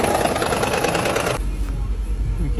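Car engine on a cold start with an intermittent misfire on cylinders 1, 2 and 3, a harsh, uneven running noise that drops abruptly partway into a lower, rough idle rumble, close and loud throughout.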